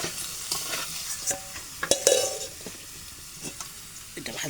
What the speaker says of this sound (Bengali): এটা ভাজবো এখন আলু